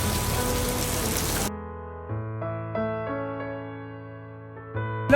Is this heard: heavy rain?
yes